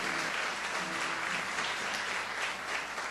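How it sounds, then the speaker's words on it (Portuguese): A church congregation applauds, dense and even clapping that fills the room at a steady level without pauses or distinct voices. "Você pode aplaudir o Senhor?"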